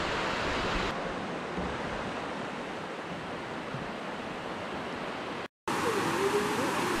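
A river rushes beside a hiking trail in the Olympic Mountains, heard as a steady, close broadband roar of flowing water. It cuts out briefly near the end and then returns, with a faint whistling tone over it.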